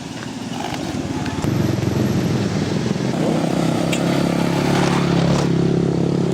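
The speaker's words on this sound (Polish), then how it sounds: "Most jest naprawdę ruchliwy, co chwilę przejeżdżają samochody, co chwilę przejeżdżają motocykle." Cars and motorcycles cross a busy bridge over a river on the road from Borobudur to Yogyakarta, making a loud, continuous rumble of engines and tires that swells as vehicles pass close by.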